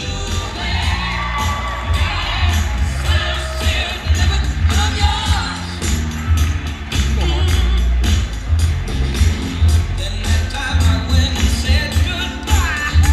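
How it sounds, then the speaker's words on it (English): Wedding guests at a Cleveland reception cheering and applauding as the bridal party enters, a loud, continuous crowd roar with high shouts and whoops sustained throughout. "How about another big round of applause for Angela and Anthony?"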